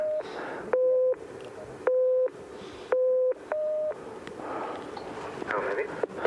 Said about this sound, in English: Okay, now you know for this test, David, you're going to try and count the low tones and ignore the high tones.